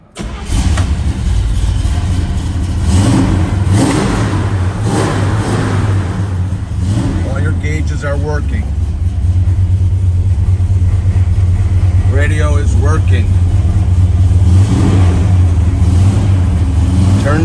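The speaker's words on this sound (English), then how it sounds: "Let's fire up the Malibu." A 1964 Chevrolet Chevelle Malibu cranks and fires up, then idles with a loud, steady rumble and a few sharp revs close to the microphone, with a voice heard intermittently.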